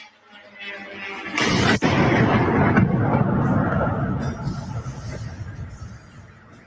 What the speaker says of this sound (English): It sounded like a secondary explosion, suggesting an ammunition depot was hit.